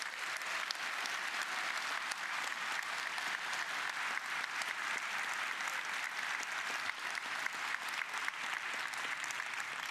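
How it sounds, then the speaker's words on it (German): Sustained audience applause for a competing team at a presentation event, many hands clapping in a dense, even wash that continues steadily from start to finish. "dann jetzt einen großen Applaus für Team 2"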